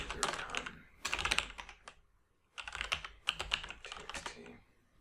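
Typing on a computer keyboard while entering commands during a Hack The Box penetration-testing exercise, with quick clattering key bursts in four clusters separated by short pauses, close and clear.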